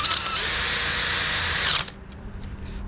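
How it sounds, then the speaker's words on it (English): A power drill spins a homemade flap sander at high speed, loud and close with a steady whine, then cuts off and winds down to quiet near the end. "I think my drill is finally like getting tired."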